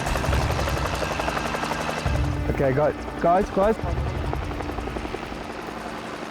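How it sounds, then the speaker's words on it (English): A helicopter's rotor drones and chops steadily throughout, loud and continuous, during an anti-poaching exercise in Kenya, while someone speaks briefly over it. "The use of the chopper provides a strong advantage."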